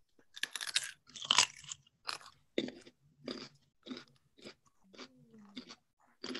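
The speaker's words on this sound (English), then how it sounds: "It's going to be a cacophony, a train wreck of carrot chewing." Several people bite and chew raw carrots at once, a run of sharp, close crunches coming in uneven bursts with short silent gaps between them.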